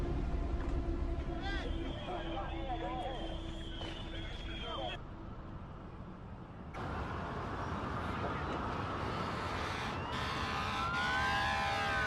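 Emergency vehicle sirens wail and shift pitch over steady traffic rumble in New York on 9/11, with a voice speaking at times; the sound is moderately loud and continuous.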